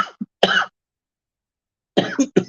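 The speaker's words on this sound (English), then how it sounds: "Got a cough." A presenter on a live advice show coughs: a short burst, then a harsher, longer cough, and after a pause of silence two or three more close, loud coughs with no talking.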